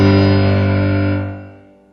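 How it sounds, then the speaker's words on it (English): A chord on a Pro Mega digital stage piano held with the damper pedal down rings loud and sustained, its tones hanging on and then fading away gradually toward the end. "play the same chord with the damper down"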